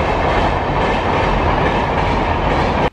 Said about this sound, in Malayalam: ഇനിയിപ്പോൾ തീവണ്ടി പോയി കഴിഞ്ഞ ശേഷം നമുക്ക് ബാക്കി നോക്കാം